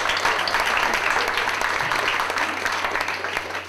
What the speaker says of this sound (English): you need a round of applause too